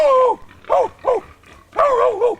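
A hog hunter imitates a dog with his own voice, giving four loud, close yelping barks spaced unevenly over a couple of seconds to lure hogs during a South Texas hunt.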